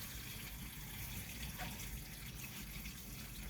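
Mung bean sprouts are washed under a steady, continuous rush of running tap water, loud and close, with no voices.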